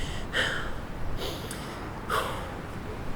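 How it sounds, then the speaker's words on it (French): A person breathes close to the microphone, with two or three audible breaths as air is drawn in and released slowly, and no talk. "inspirez un peu moins, expirez plus longtemps"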